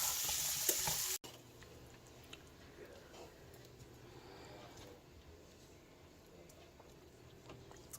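Food simmering in a pan for a weeknight dinner, a soft steady bubbling hiss that follows a brief louder burst at the start and carries on quietly at low level throughout.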